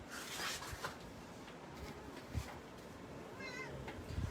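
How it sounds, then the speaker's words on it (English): A house cat yowls and meows in a few drawn-out cries, moderately near, rising above a busy background of indoor room noise. "And there's my cat yelling."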